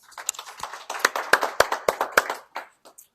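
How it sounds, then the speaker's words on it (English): A small audience at a business talk claps sparsely, with a dozen or so distinct, close hand claps in an uneven rhythm that trails off into a few last claps. "So please join me in giving Steve Swigert a round of applause"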